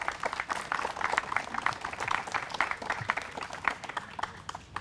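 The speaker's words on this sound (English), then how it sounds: "Again, another round of applause." Applause rises from an audience at an outdoor Juneteenth gathering at a historic tannery, brisk and fairly close, with uneven bursts of clapping running throughout.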